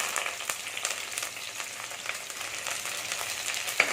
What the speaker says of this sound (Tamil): எல்லாத்தையுமே சேர்த்து நல்லா வதக்கிடலாம்